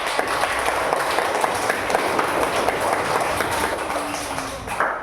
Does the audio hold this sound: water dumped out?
no